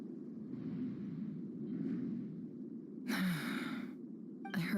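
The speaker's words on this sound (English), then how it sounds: "I heard Yehuda gasp" A character in the video game Genshin Impact lets out a short, breathy gasp over a steady low ambient hum, followed by a second brief intake of breath at the very end.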